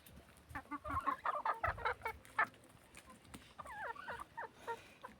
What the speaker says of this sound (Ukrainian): Ой, кури мої, кури.